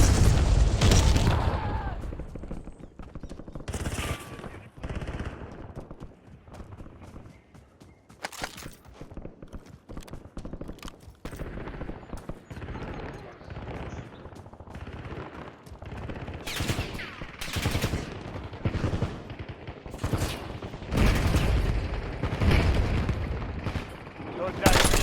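Gunfire in Call of Duty Warzone: steady rapid shots, booms and footsteps throughout, with loud bursts toward the end, under in-game voices and a player speaking French.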